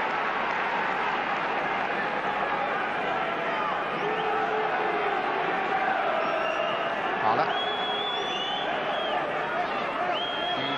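Football crowd at Sunderland versus Arsenal in a 1996/97 FA Cup third-round replay, urging a player on: a continuous, distant roar of thousands of voices with scattered whistles and shouts, steady throughout.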